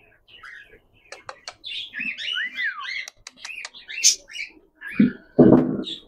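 A pet lovebird chirps and tweets up close in rapid, varied bursts for several seconds, followed by a couple of dull thumps at the end.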